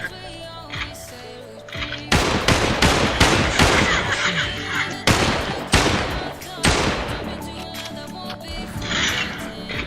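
Rapid bursts of pistol fire in a shooter video game crack out close and loud, some in quick strings and some as single shots, with game noise running underneath.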